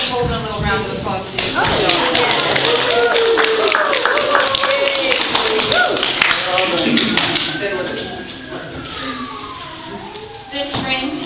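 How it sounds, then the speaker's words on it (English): Wedding guests applaud Holden during the ceremony: a burst of scattered clapping that swells through the middle and fades, heard under voices and tonal sounds that ride on top. "Let's all give Holden a little round of applause"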